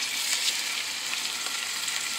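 Skin-on salmon fillets seasoned with salt and pepper fry in a hot oiled pan, making a steady, close, dense sizzle with no talking.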